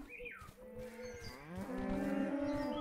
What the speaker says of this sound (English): the cow sounds.